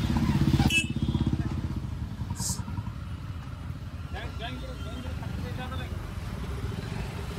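A motorcycle engine revs loudly up close at first, then traffic noise and passing bikes rumble on steadily in a jam on the road to Bhadra Maruti temple, Khuldabad, with faint voices in the background.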